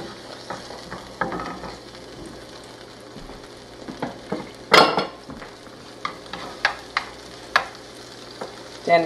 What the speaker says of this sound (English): we put a little bit of olive oil in our skillet, and then to this we are going to add our onions.